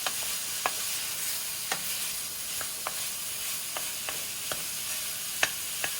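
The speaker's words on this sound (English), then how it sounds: "when you're stir frying shrimp, you have to be around it" Steady close-up sizzle of shrimp stir-frying in a hot pan for shrimp fried rice, with scattered sharp clicks and scrapes of stirring, no voices.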